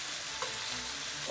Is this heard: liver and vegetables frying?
yes